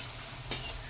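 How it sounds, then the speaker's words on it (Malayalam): Food frying for ghee rice is stirred in a pan, a soft steady sizzle with one brief scrape of a utensil at the midpoint, quiet and close. "നന്നായി ഇളക്കി"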